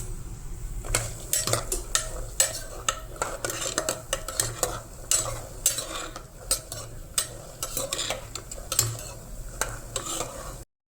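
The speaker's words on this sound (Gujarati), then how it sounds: "તેલ ગરમ થાય એટલે આપણે મખાનાને તળી લેશું" Fox nuts (makhana) frying in hot oil in a pan, with a continuous soft sizzle broken by frequent sharp clinks and scrapes of a metal spoon stirring against the pan, close up and without talk.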